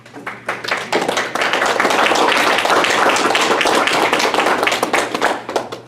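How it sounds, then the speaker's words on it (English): A small audience at a county planning commission meeting claps for a departing colleague, individual hand claps audible at first, then swelling into steady close applause before thinning out. "just a round of applause for Ruth."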